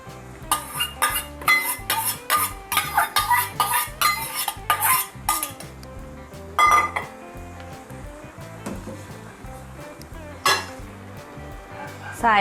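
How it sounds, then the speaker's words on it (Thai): Coconut cream being poured into a metal pot and stirred, with repeated scraping and clinking of a utensil against the pot, close and fairly quiet, under gentle background music. "ใส่หัวกะทิที่เหลือลงไปเลยค่ะ"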